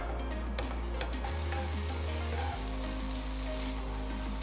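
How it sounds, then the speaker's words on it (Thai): Steady sizzling and crackling of bacon frying in a hot pan, with a low constant hum underneath and occasional soft stirring, no voices. "ตั้งกระทะให้ร้อนนะคะ ใส่เบคอนของเราไป"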